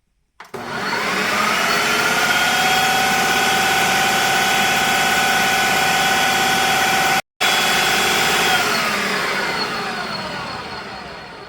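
Food processor blending hummus with olive oil, a loud steady whirring motor that starts abruptly, cuts out for a split second, restarts and then gradually winds down at the end.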